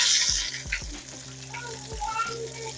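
Steak searing in butter in a hot pan on a stovetop at medium-high heat, a steady close sizzle with a few soft low knocks as the butter is moved around.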